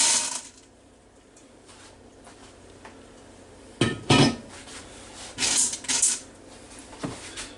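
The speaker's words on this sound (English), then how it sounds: "So I'm going to dump them in the Instant Pot over here." Dry pinto beans are dumped into an Instant Pot, giving several short clattering pours and rattles after a quiet stretch, the loudest bursts coming in quick clusters.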